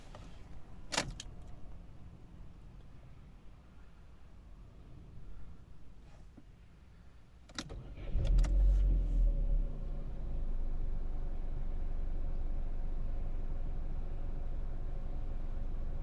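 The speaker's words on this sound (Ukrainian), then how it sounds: "І зараз заведемо, послухаємо, подивимося на наш двигун." A warmed-up 2011 Opel Astra J with a 1.6 MPI petrol engine and automatic gearbox: faint clicks and key or switch sounds, then the engine cranks and catches around the middle, settling into a steady close idle rumble.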